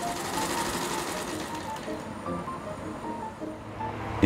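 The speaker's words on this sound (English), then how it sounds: "It's manufactured on a Singer sewing machine by a master tailor from French Saint Martin" A Singer sewing machine run by a master tailor whirs in a steady, busy mechanical rattle, with faint background noise and a voice briefly present.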